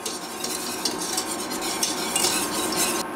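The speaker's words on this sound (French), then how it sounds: "Et là, je mélange." Caramel with fleur de sel is stirred in a pan, a utensil scraping and clinking in quick, continuous strokes over a faint sizzle, close up with no voices.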